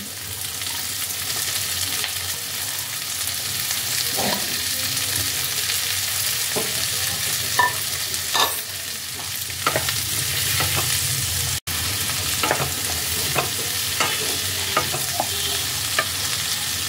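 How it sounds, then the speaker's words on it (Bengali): Red, yellow and green capsicum pieces stir-fry with onion in hot oil for chilli paneer, a steady close sizzle with repeated clinks and scrapes of a spatula against the pan. "এবার আমি এর মধ্যে দিয়ে দেব ক্যাপসিকাম।"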